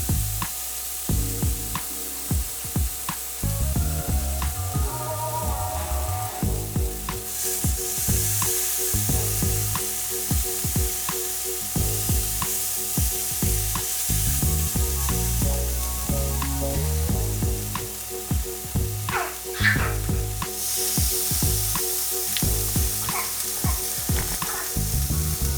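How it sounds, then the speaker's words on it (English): Steady sizzling of vegan patties frying on an electric smokeless grill, crackling continuously with occasional scraping and clinks of a utensil, close and fairly quiet. "Oh, there's our sizzle."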